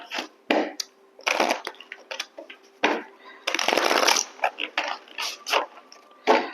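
Tarot deck of cards being shuffled, repeated crisp riffling bursts and snaps close by, separated by brief gaps.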